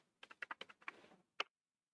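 Quick run of keystrokes on a computer keyboard, about eight close, crisp taps in an uneven rhythm, a brief pause, then one sharper final key press, all quiet and alone.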